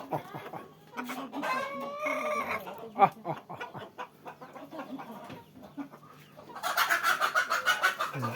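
A rooster clucks and calls repeatedly at close range, with a short loud crow-like burst near the end and brief rustling between calls.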